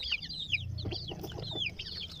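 Soft, repeated native hen clucks close by, with low murmuring clucks and a few higher chirps throughout, no talking.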